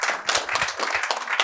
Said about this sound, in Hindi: तालियां दोस्तों।